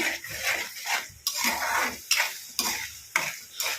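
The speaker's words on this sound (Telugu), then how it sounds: "అల్లం వెల్లుల్లి పేస్ట్ అడగంటకుండా చక్కగా కలుపుకోవాలండి" Ginger garlic paste fries in a pan for homemade chicken pickle, stirred with a utensil in brisk repeated strokes that scrape and clatter against the metal over a bubbling sizzle, close and loud, with no speech.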